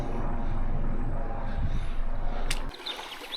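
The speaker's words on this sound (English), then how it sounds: "There's a helicopter up there." A helicopter flying overhead above a small clear trout stream, a steady low rotor-and-engine drone mixed with trickling water, cutting off abruptly near the end.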